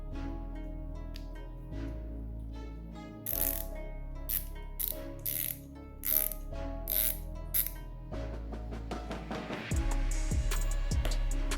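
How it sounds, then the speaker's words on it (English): A Wera 1/4 inch ratchet fitted with a socket adapter clicks in short, close bursts of rapid pawl ticks separated by brief pauses, with no voices. "Now it becomes 1/4 inch ratchet."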